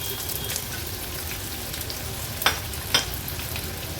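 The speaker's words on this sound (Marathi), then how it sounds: "आता फोडणीला हे 2 कांदे आणि 2 हिरव्या मिरच्या बारीक चिरून घेतल्यात त्या ऍड करूया" Finely chopped onions and green chillies fry in hot oil for a tempering, giving a steady close sizzle throughout, with two brief louder crackles or stirring knocks near the end.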